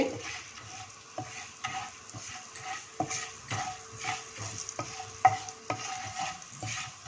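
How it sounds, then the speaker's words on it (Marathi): Fenugreek seeds, black peppercorns and cloves sautéing briefly over a low flame in a pan for Indian gooseberry pickle masala, a soft steady sizzle broken by repeated scraping stirs of a spoon against the pan. "मेथ्या आणि थोडंसं असं 10 सेकंद असं परतायचं"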